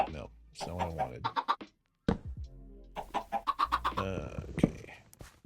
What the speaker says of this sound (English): Now we got all those chickens. Look at all those chickens.